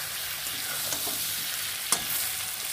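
Okra and potatoes frying in a pan give a dense, even sizzle, with a couple of brief spatula scrapes as they are stirred, heard close and with no voices over it.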